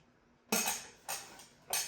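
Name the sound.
stirring noodles into beef dish with utensil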